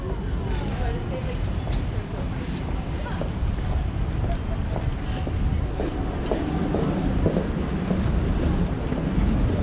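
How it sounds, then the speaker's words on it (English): Strong winter wind buffets the microphone on an Amsterdam city street, a heavy low rumbling roar with gusty surges throughout, mixed with faint background street sounds. "That's what happened when we have a strong wind here."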